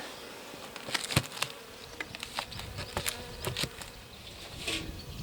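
Honeybee colony buzzing steadily at an alpine hive nucleus, a close, continuous drone of many bees with individual insects flying past the microphone.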